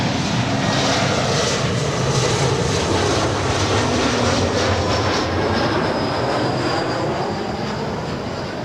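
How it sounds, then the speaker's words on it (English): Delta Connection SkyWest Embraer E175LR jet arriving from Spokane at LAX, its engines a loud, steady, close roar that fills the scene throughout, with no talking. "Delta Connection SkyWest 3558 coming in from Spokane. E175LR."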